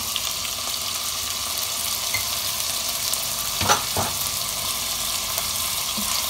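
Half a kilo of mutton fries in a pan for Peshawari namkeen gosht, giving a steady close sizzle. Two brief stirring scrapes come just before the four-second mark, and no one speaks.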